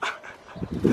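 A dog gives a few short barks and yips close by, uneven and excited within a single second.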